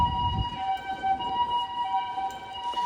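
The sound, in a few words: ambulance siren in Shibuya street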